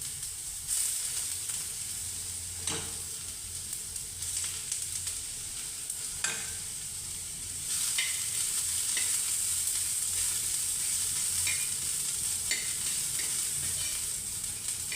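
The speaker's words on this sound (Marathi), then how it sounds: "आता मी ह्याच्यामध्ये हा कांदा टाकते आणि परत कांदा चांगला परत ह्याच्यामध्ये भाजून घेते" Onion fries with dried coconut in a pan, giving a constant dense sizzle that swells louder midway, dotted with occasional utensil scrapes and taps.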